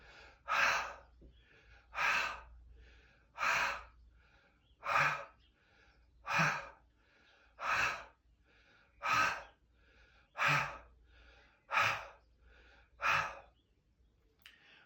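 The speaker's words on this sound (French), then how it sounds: "on va résister et faire des respirations circulaires" Deep, audible breaths repeat in a slow, steady cycle during a barre exercise, about ten forceful exhalations with quiet inhales between them, close and clear.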